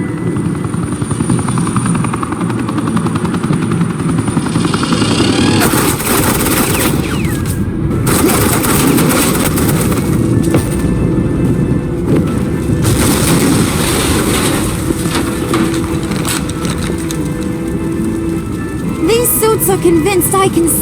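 Suppressing gunfire in the Batman Telltale Series game: bursts of automatic fire and booms under a loud, continuous helicopter-like roar, dense and unbroken throughout.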